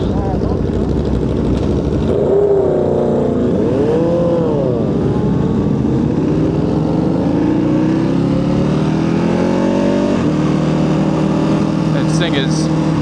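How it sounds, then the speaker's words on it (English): A Ducati Panigale V2 motorcycle rumbles on the road during a ride, its exhaust note rising and falling steadily as the engine revs and shifts, loud and continuous under wind noise, with a rider's voice talking over it. "Exhaust sounds awesome."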